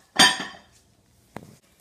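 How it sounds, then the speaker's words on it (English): A crock pot set down inside a slow cooker and its lid placed on: one clattering ceramic knock with a short ringing decay, then a lighter clink a second later, close and isolated. "you'll place the crock pot inside of the slow cooker, and then you will cover the pot"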